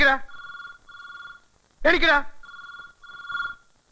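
A telephone rings in repeated electronic bell bursts, about four in all, while people talk between the rings.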